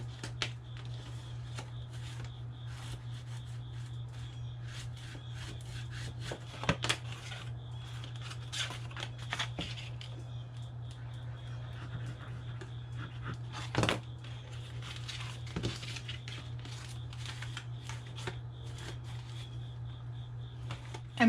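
Glued paper flaps are folded over a chipboard tissue box, producing soft, close rustling and crinkling with occasional sharper taps and creases over a low steady hum.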